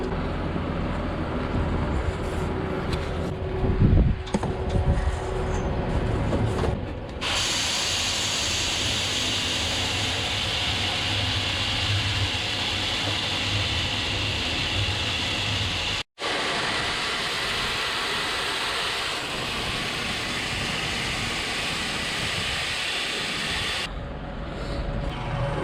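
A skid loader's diesel engine runs steadily outdoors on a farm while lifting a heavy seed box, a continuous loud mechanical drone with a brief cut partway through and no talking.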